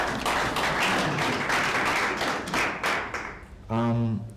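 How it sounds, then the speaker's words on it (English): Audience members at a university event clap in a dense, continuous patter, with a voice speaking over the clapping toward the end. "Can we clap for that?"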